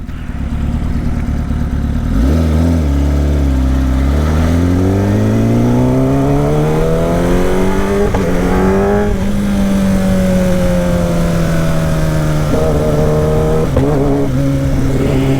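A Kawasaki ZX10 sport bike is ridden through downtown streets, its engine revving loud and close with repeated rising sweeps as it accelerates through the gears.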